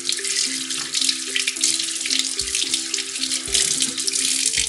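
Running water from a tap splashing steadily as hands are rinsed of homemade face wash lotion, close and continuous with small splashes and no talk.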